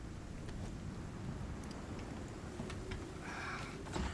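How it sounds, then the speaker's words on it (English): Steady rain falls in the survival video game Icarus, a soft, constant hiss with low rumbling wind or distant thunder underneath, faint and without speech. "Because it's raining."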